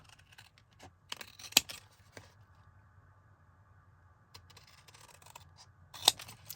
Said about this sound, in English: we're going to go ahead and just cut this right off